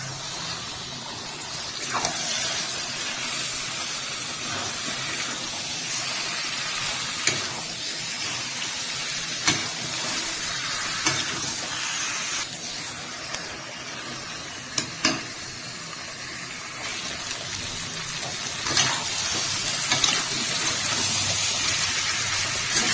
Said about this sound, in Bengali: দিচ্ছি ধুয়ে রাখা খাসির মাংস।